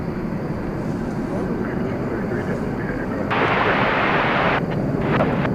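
An airplane takes off at DFW airport, its engines sending a loud sustained roar that swells partway through, while people talk over the noise.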